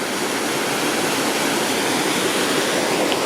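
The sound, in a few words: waterfall with salmon jumping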